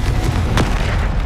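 A Confringo blasting spell explodes in the Hogwarts Legacy video game, a single loud, dense boom with a sharp burst in the middle over a constant rumbling low roar.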